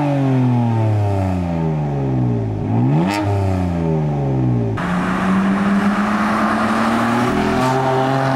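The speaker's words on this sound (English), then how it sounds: "If you have no idea what the BMW M4 sounds like, well, here, listen." A BMW M4 on its stock exhaust revs and accelerates loudly up close, pitch climbing through several gears with a sharp shift change, then a steady higher drone, with no talking over it.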